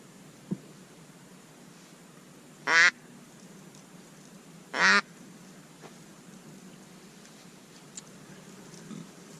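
Wild ducks quacking during a duck hunt, two separate bursts of raspy quacks a couple of seconds apart over a quiet outdoor hiss, moderately close, with no talking.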